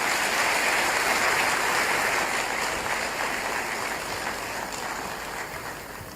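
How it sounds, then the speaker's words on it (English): Applause from the audience at a democracy dialogue gathering, a dense, even wash of clapping heard from a distance that slowly fades. "another round of applause for His Excellency John Dramani in Mahama"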